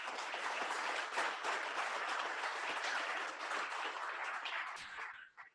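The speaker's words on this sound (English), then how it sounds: "Let's give them a round of applause." A room of meet-up attendees applauds their hosts at The Linde Group in San Francisco, steady massed clapping that holds for several seconds and then tapers off quickly at the end.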